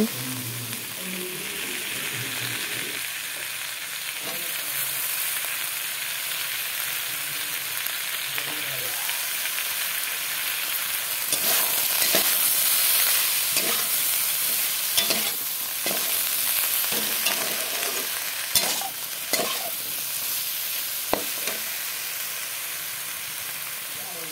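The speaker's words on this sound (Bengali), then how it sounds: "কালো জিরা দিয়ে তারপর আলু বেগুনটাকে ভাজা হয়েছে।" Potato and eggplant pieces fry with nigella seeds in hot oil, giving a steady sizzle throughout with occasional scraping and stirring clicks from a utensil, close and fairly loud, no talking.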